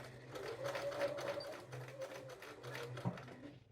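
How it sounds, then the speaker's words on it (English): A sewing machine runs a quick chain stitch on the front pocket of a pair of jeans trousers, a steady close mechanical whir lasting a few seconds with a brief knock near the end. "A little chain sewing makes it go fast."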